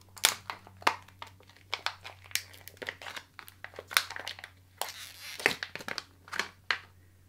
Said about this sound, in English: Now to get them out of the mold is real easy. Just take yourself a razor blade.